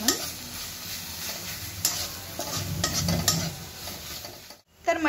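Spices with Kashmiri red chili powder frying in a pan for chicken handi, stirred with a spoon that scrapes and clinks against the metal over a moderate sizzle.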